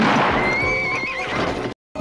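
A horse neighs over galloping hoofbeats, a loud, dense burst of whinnying and clip-clop from a 1990 film trailer, running steadily before a brief dropout to silence and a short return.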